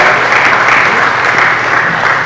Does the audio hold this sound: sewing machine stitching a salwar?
no